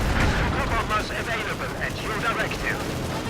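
A satchel charge explosion and gunfire in the Company of Heroes 2 video game, heard as dense, continuous battle noise of rattling shots and blasts under a commentator's voice.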